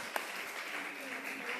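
Audience at a church Bible panel applauds, a steady wash of many hands clapping, moderately loud and even throughout with no speech over it.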